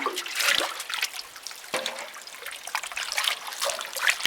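Hot spring water pours and trickles from a well in a rainy season setting, an uneven splashing flow with repeated surges, close by and without talk.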